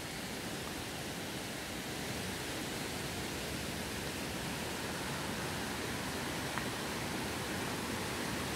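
A Swiss Alpine river, swollen after a week of rain, rushes past in a steady, unbroken hiss that is fairly faint and fills the whole stretch with no voices.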